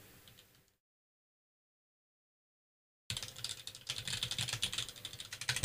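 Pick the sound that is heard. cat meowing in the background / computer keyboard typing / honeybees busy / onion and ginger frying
computer keyboard typing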